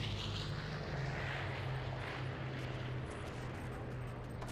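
Propeller aircraft engine in the Men of War: Assault Squad game on an Okinawa map, a loud continuous droning hum with a steady low rumble, close and sustained for the whole stretch without any talk.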